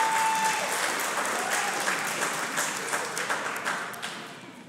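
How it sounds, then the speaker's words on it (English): A crowd at a diaconate ordination service applauds, a dense wash of many hands clapping that slowly fades in loudness toward the end. "If you're going to clap, clap."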